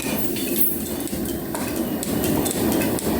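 A metal planer takes a cutting pass across a flame-cut steel edge, squaring it to the top and bottom faces: a steady, dense metallic scraping and rumble, fairly loud and continuous throughout with no talk.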